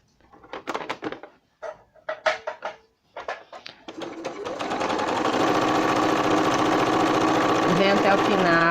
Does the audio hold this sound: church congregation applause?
no